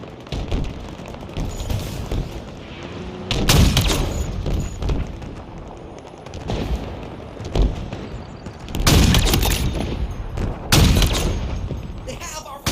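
Booming shots from a long-range weapon in the Halo multiplayer game. Several heavy, spaced blasts land over a few seconds amid game noise and crackle, with someone talking excitedly underneath.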